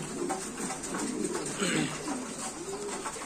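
Domestic pigeons, a Qalmon gaditano and a chocolate checker kept together as a pair, cooing in steady low rolling calls close by, with soft warbling swells over a constant background.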